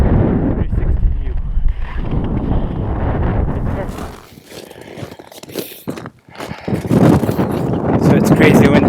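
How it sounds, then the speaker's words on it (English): Strong wind blasts across an open hilltop at sunset, a loud, roaring gusty rumble buffeting the microphone almost throughout, briefly easing midway before surging again. "So it's crazy windy up here."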